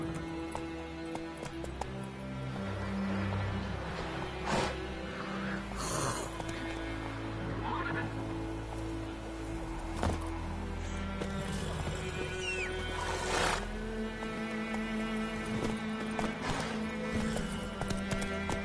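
Roach, the horse in The Witcher 3: Wild Hunt, gallops with steady rhythmic hoofbeats over a layered game soundtrack, with occasional snorts and a short whinny, fairly close and clear throughout.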